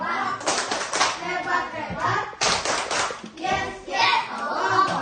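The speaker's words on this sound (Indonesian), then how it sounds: "Tepuk hebat buat semua" A school class claps out a 'tepuk hebat' chant, with quick bursts of hand claps mixed with children's and a teacher's voices in a classroom.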